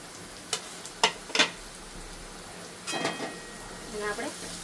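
Garlic fries in hot oil over high heat for a Chinese Manchurian dish, with a soft crackling sizzle broken by a few sharp clinks of a utensil on the pan.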